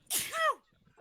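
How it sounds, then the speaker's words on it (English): A single sharp sneeze bursts out close up, a breathy hiss rising into a brief voiced cry, during a tabletop role-playing game session, followed by quiet murmuring. "Bro, stop sneezing."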